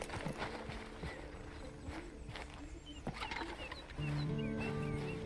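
Horse hooves clip-clop in the Red Dead Redemption 2 game, a few irregular thuds over a busy outdoor ambience with faint animal calls and a low engine-like hum near the end.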